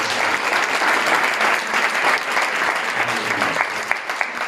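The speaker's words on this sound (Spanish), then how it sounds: "¿Por qué no le damos bien fuerte un aplauso a nuestro Dios?" A church congregation claps loudly and steadily throughout, a dense, sustained wash of applause with a few sharper individual claps near the end.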